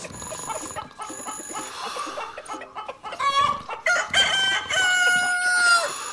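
A rooster clucks and then crows loudly in the video game Polda 6, with bright electronic tones chiming alongside it.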